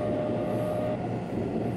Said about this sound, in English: it's a CAF train, which I am a big fan of, because these trains have epic-sounding VF drives.